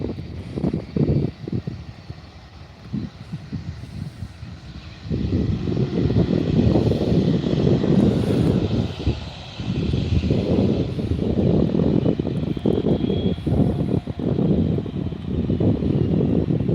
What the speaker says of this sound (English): the Jet 2 from Newcastle has just arrived